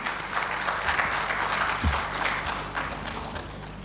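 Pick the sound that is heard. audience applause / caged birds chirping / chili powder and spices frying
audience applause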